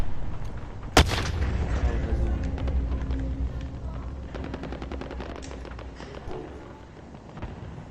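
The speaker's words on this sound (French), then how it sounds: "Je me prends des balles de l'ennemi." Call of Duty Modern Warfare gunfire: one sharp, loud shot, then a sustained rattle of automatic fire and heavy battle noise that gradually fades toward the end.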